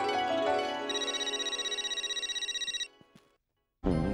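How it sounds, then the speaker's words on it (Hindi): A telephone rings with a fast, regular electronic trill, loud and close, pulsing steadily for a few seconds before cutting off, followed by a short quiet gap and another sudden loud sound. "सुंदरलाल मुझे फोन कर रहा है"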